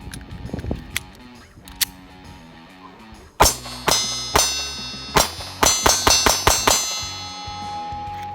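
Pistol shots ring out at a target from about 15 feet, a couple of scattered shots followed by a rapid string of roughly ten sharp, loud reports, each with a ringing metallic decay.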